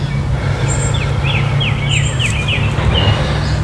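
A bird sings a quick series of descending whistled notes outdoors, with other faint chirps and a constant low background hum.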